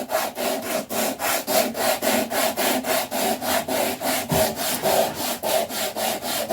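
A homemade sandpaper sander rubs back and forth on wood in a fast, even rhythm of rasping strokes, close and fairly loud, with no talking.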